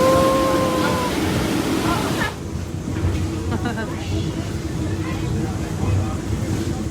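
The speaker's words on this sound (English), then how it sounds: "What you're seeing here is the blowdown, where we're blowing out any additional scalar sediment that's building up in the boiler." Steam boiler blowdown at Greenfield Village, blasting out built-up scale and sediment, heard as a loud, steady broadband roar with a brief tonal whistle at the start. It eases after a couple of seconds into a lower, continuous rushing hiss.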